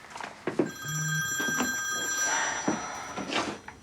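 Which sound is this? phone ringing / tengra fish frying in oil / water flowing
phone ringing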